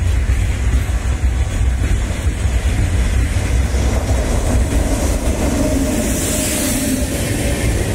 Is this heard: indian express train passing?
yes